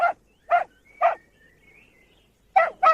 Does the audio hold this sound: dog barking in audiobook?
yes